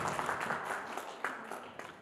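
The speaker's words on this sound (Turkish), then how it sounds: "Alkışlar koyalım." Audience applause at a school poetry competition, a steady dense patter of many hands clapping indoors at moderate volume, with faint voices underneath.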